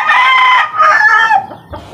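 A gamecock crows loudly and close by, one long strained call that trails off into a few softer clucks at the end.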